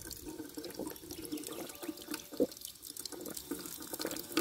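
Tap water runs steadily into a basin for washing outdoors near a chapel, a continuous splashing flow with a few louder drips and splashes, close and alone.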